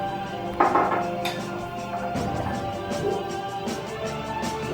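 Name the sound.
children mixing eggs in a bowl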